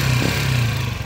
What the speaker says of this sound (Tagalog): Ito yung andar ng makina nila.